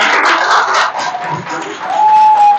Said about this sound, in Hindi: चलो फिर अपने लिए तालियां बजा दो।